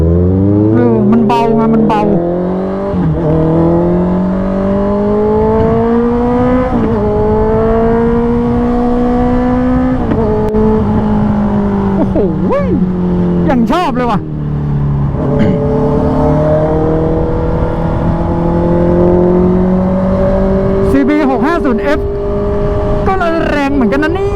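A 2018 Honda CB650F fitted with a 2.5-inch slip-on exhaust is ridden, its loud engine rising and falling through gear changes, sounding close and continuous while a rider talks over it.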